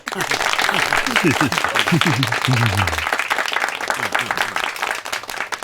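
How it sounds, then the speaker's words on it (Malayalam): Applause rises from a committee meeting as a decision is passed by clapping, a dense wash of many hands lasting several seconds alongside talking voices, steady and fairly loud throughout. "ഈ യോഗം കൈയടിച്ച് പാസ്സാക്കുക"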